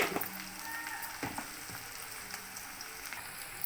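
Onions frying in a pan with salt, turmeric and coriander powder, a soft steady sizzle with faint occasional stirring scrapes, quiet and close.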